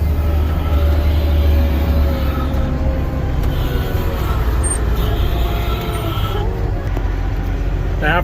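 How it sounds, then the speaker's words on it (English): A small logging skidder's diesel engine idling after being driven along a farm road, a loud, steady low rumble close by that holds throughout with faint higher whines and a few brief clanks. "We're just going to park a little skidder here out here where the world can see it."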